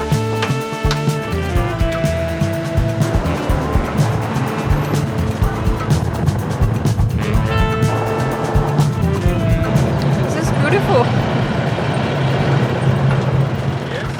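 A jeep carries riders through a Sri Lankan village near Udawalawe, its steady engine rumble and road noise running loud and continuous throughout, with a few brief tonal sounds rising over the drive.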